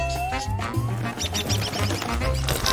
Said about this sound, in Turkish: Bu bir kuş sesi.